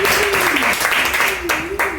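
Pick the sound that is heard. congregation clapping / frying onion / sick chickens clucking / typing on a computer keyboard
congregation clapping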